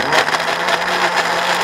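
An electric blender grinds coriander, shallots and other spices with water for chicken penyet, a loud, steady, close-up motor whir running without a break.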